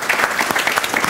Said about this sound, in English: A round of applause as well.